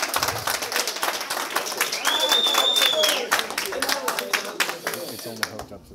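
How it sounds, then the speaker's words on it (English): Audience applause at a GanoLife opportunity meeting, a broad burst of clapping from a crowd that swells in the middle and then tapers off, with a voice heard briefly over it. "Give yourselves a round of applause."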